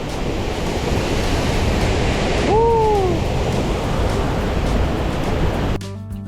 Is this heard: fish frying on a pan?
no